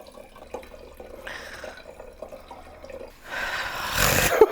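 Whiskey is poured slowly into a big Pyrex measuring cup: faint trickles and drips build into a louder, brighter liquid stream near the end, with no talking.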